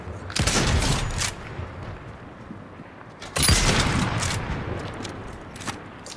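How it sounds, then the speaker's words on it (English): Bursts of gunfire in a Fortnite match, with two loud volleys of rapid shots separated by quieter stretches of continued firing, the sound of a bot or opponent shooting at the player. "And it's just the bot shooting at us?"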